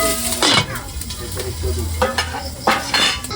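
Pork sizzles and fries in a pot as the meat is stirred for sinigang na baboy, its fat rendering out. Steady crackling runs throughout, broken by several louder scraping stir strokes, close and fairly loud, with no talking.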